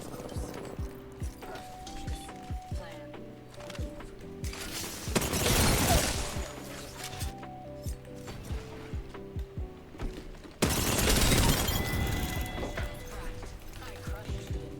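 Two bursts of heavy automatic gunfire from a first-person shooter played on a controller, each lasting over a second, set among clicking footsteps and mechanical game sounds.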